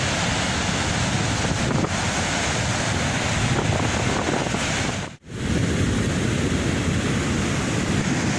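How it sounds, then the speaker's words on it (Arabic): Rough, whitewashed sea waves pound the shore in a steady, loud roar mixed with wind buffeting the microphone, with one brief dropout partway through. "كما كتشوفوا راه البحر موبط الخوش، مبيضه جايه خارجه."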